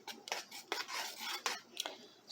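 A metal spoon stirs and scrapes homemade elderberry cough syrup in a pot, giving several quick, faint metallic scrapes and clinks at an irregular rhythm, close by with no talking.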